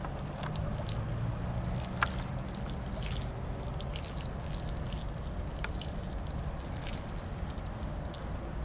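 Water added to basil (tulsi) seeds on a paper towel for germination, a faint, steady trickle and soft wet dripping with a few small drips, close and quiet, with no talking.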